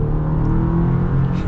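A 2023 Chevy Colorado LT mid-size pickup with the Turbo Plus powertrain accelerating, a steady loud engine hum and whir heard from inside the cabin, with no talking.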